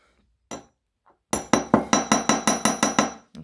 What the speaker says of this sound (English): I'm just going to hammer that loop just quickly before I do anything more, so to the back of it. A small face hammer in here.